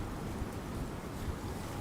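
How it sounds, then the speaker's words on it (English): Strong wind gusts buffet the microphone on a Midtown Manhattan street in New York at night, a loud, steady roaring rush with no voices. "the wind is really, really picking up here in New York"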